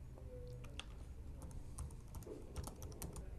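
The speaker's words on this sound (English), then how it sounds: "And I'm going to type into the address bar" Quiet, close computer-keyboard typing while entering a web address into a browser, a quick irregular run of light key clicks with no talking.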